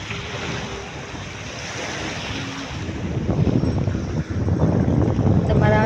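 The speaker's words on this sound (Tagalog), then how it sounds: "Lakas na yung alon." Strong waves break on a beach at high tide in Tanza, Cavite, with a continuous rushing wash and wind buffeting the microphone. The surf grows louder in the second half.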